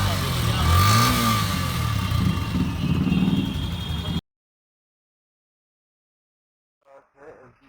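A Yamaha FZ-S FI V3.0 motorcycle engine runs at a steady, close, fairly loud level while someone talks over it, then the sound cuts to silence, with a few brief noises at the very end.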